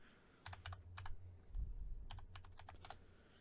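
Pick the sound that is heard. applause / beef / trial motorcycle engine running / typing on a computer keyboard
typing on a computer keyboard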